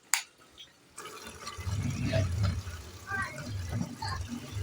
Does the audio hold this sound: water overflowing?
yes